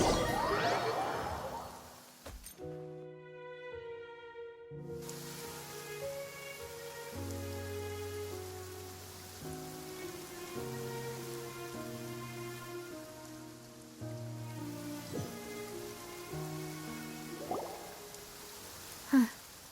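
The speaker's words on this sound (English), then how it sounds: "It's been raining non-stop for a few days now." Rain in the video game Genshin Impact: a soft, steady patter of falling rain underneath sustained musical tones, with a brief whoosh near the start.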